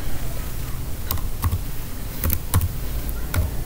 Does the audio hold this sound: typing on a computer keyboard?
yes